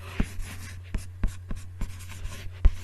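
Marker or chalk writing on a board, a string of sharp taps and short strokes in an irregular rhythm, close and clear, with no voice over it.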